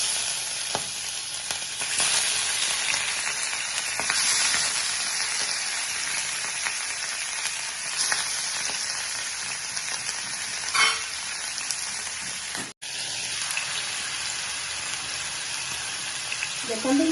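Fish rubbed with turmeric and salt frying in hot oil for an Odia-style mustard fish curry, a steady close sizzle and crackle running throughout, with a brief clatter near the end.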